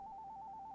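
A phone ringtone beeps in quick, evenly pulsed electronic bursts, a steady repeating tone heard clearly on its own with no voices.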